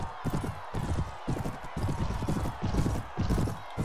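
Hooves of a galloping horse in Mount & Blade Warband, a steady rapid clip-clop rhythm running throughout, fairly close and prominent, with a faint voice in the background.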